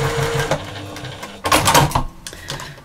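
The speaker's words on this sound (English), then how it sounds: "I've stitched my two triangles together." A sewing machine stitching two patchwork triangles together for a lap quilt, fast rattling bursts of stitching separated by brief pauses and clicks, close and fairly loud.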